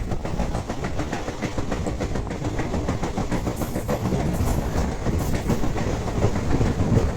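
Sleeper train rolling through the Kerala countryside, a steady rumble with continuous rhythmic clickety-clack of wheels over rail joints, heard from on board.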